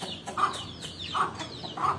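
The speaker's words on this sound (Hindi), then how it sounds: "ये दो वाइट किस्म के मुर्ग और साथ उनके मुर्गी है" Two white roosters and a hen cluck close by, giving three short, distinct clucks spaced evenly apart over a quiet background.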